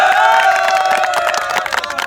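A crowd at a village cricket match cheers and shouts for the two teams, a loud, sustained burst of voices with some clapping mixed in.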